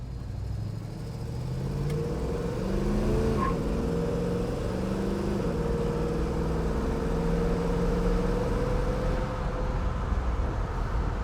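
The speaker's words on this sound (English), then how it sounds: "I chirped the tires coming out of first" A 1968 Chevrolet Camaro with a 327 engine pulls away and accelerates hard out of first gear, its rising engine note loud and close, with a brief tire chirp at launch and a steady roar after.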